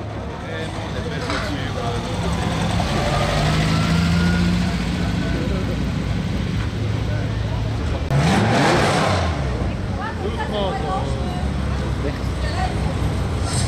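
A 1966 Lancia Flavia Coupé classic rally car's engine idles and revs at an oldtimer rally start in Bastogne, Belgium. The steady engine rumble is joined by a passing swell midway, with an announcer talking over it.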